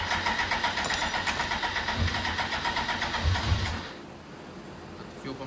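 A crashed 2003 Kawasaki ZX6RR motorcycle cranks with a rapid, rhythmic churning and a couple of low thumps close by, then the sound fades to a quieter hum.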